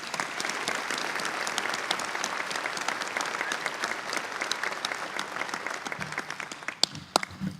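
An audience at a sports hall of fame banquet claps steadily for scholarship winners, a full, even patter heard from a distance that begins to break up into scattered claps near the end.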